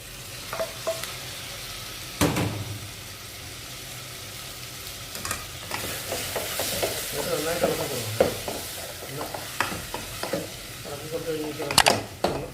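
Chopped tomatoes fry in a pan for kabuli chana curry, a low steady sizzle under frequent scraping and clattering stirs, some sharp knocks against the pan, with no one talking.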